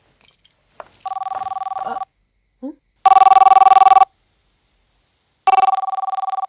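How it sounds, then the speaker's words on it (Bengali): A telephone bell rings in three loud bursts with pauses between them, alone in an indoor movie scene, after a brief faint voice at the start. "এখন আবার কে ফোন করছে"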